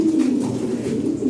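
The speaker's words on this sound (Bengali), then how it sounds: "এগুলো শো কোয়ালিটি কবুতর ভাই" Show-quality red European Lahori pigeons coo in a low, steady, throaty murmur, close by and continuous for a moment.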